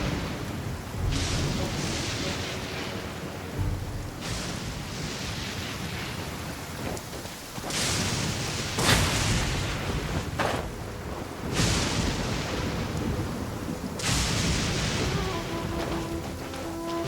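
Heavy desert rain falls in Genshin Impact, a constant roaring downpour broken by several loud thunder cracks and rumbles spaced a few seconds apart, with no talking.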